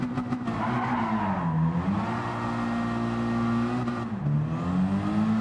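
Honda Civic Type R FK8 with a turbocharged K20 engine in Gran Turismo 7, a steady engine drone whose pitch dips and rises as revs change, alone and with no talk.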